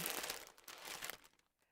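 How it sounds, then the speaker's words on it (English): Loud crinkly paper being handled in a yarn unboxing, a dense burst of close crackling and rustling that fades out after about a second and a half, with no talk over it. "we've got some very loud crinkly paper"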